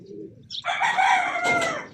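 A trained racing pigeon, kept for flying practice, gives one short, close, tonal call with a rising and wavering pitch, heard alone over a quiet background.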